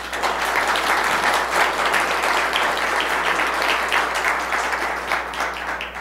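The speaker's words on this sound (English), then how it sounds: "Please give him a round of applause." A crowd at a candidates' forum for California attorney general applauds steadily, dense overlapping claps holding a loud, even level throughout over a low hum, no voices.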